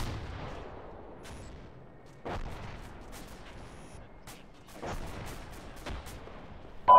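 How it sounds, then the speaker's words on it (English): Tank rounds firing in a military video game, a handful of separate heavy booms spaced a second or two apart over a quiet, low background. "Those are tank rounds, right?"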